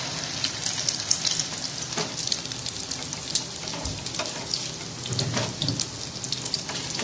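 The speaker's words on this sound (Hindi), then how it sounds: "देखें इसमें अंडे में डिप करके मैं फ्राई कर रही हूँ" Shami kababs dipped in egg fry steadily in a pan, a continuous crackling sizzle with bursts of spattering, close and fairly loud, with no talking.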